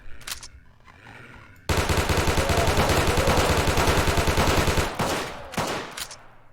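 Automatic gunfire in a modded shooter game with heavy recoil: a loud, rapid burst of shots lasts about three seconds, framed by a few scattered single reports before and after.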